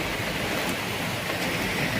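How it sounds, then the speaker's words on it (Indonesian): Heavy rain with strong wind in Banyuwangi, heard from inside a parked car with the window opened slightly: a dense, steady roar of rain with no breaks, fairly close and unchanging across the whole stretch. "Hujan masih berlangsung begitu lebat sekali, disertai dengan angin yang sangat kuat"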